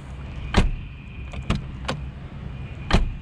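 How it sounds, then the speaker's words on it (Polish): Four solid car door thunks from a 2003 Mercedes C240 W203, one after another with uneven pauses, close and fairly loud over a quiet background. "Posłuchajmy sobie, jak się otwierają i zamykają drzwi."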